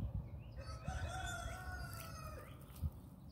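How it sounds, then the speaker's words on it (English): Roosters crow in drawn-out calls, one after another, with a few short clucks and scratchy thumps nearby; no one speaks. "The roosters are agreeing with me"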